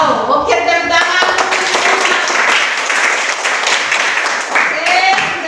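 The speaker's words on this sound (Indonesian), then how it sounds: "Oke, tepuk tangan." Children clapping their hands together in a classroom, a dense, lively burst of applause lasting several seconds with some voices mixed in.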